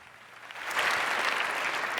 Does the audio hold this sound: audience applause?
yes